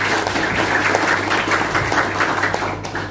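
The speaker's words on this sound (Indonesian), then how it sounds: "tepuk tangan dulu" Students at a university orientation event applaud together, a loud, sustained wash of clapping from a large audience with a low hum underneath.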